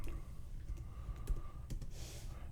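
Quiet clicking of keys being typed on a computer keyboard, a short run of light taps close by and faint, with no voices.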